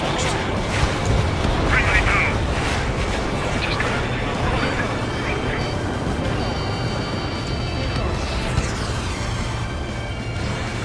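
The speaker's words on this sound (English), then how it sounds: "Missile fired." A missile launched in Ace Combat 7 during a pipeline destruction mission, a roaring whoosh over a dense rumble of jet noise and explosions, with a voice speaking over it.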